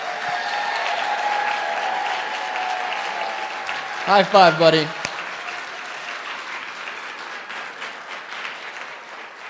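Audience applause fills a talk event, a steady sustained wash of clapping that runs throughout, with a brief burst of close speech midway as someone greets a person coming onstage.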